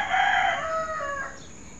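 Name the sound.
rooster crowing in the countryside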